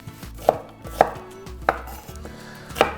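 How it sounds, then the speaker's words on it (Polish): A kitchen knife chops an onion into thick cubes on a cutting board for a traditional Polish dish, with four sharp, evenly spaced strikes close by and no talking. "Moje danie zacznę od pokrojenia cebuli w grubą kostkę"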